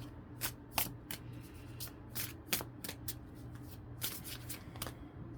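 Heavy weighted playing cards being shuffled by hand, a run of sharp riffling bursts and soft slaps in an irregular rhythm, close up over a faint steady hum, with no talking.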